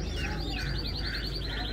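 Brahma chickens, a black rooster and a light hen, calling amid the bustle of a busy bird market, with repeated gobbling, clucking fowl sounds close by over steady crowd noise.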